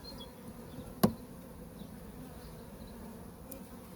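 A steady, low hum of many honey bees buzzing together at a hive, continuous and close, with one sharp tap partway through.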